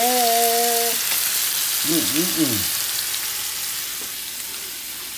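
A pan of lobster, salmon and shrimp fried rice frying with a loud, steady broadband sizzle that fades slightly, while a voice briefly speaks and hums over it.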